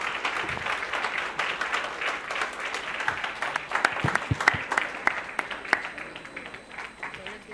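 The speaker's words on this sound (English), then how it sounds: "Can we have a huge round of applause for Dr. Suhasa, please?" An audience at a live eye-surgery presentation applauds a doctor with steady, full clapping that runs throughout, a few sharper individual claps standing out near the end.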